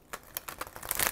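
Tarot cards being shuffled by hand: a quick run of crisp riffling clicks that speeds up and grows louder toward the end, close and alone, with no talking.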